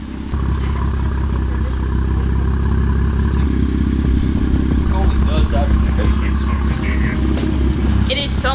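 BMW F80 M3 fitted with a loud titanium exhaust, valves closed, idling with a deep steady rumble close by, while people talk over it throughout.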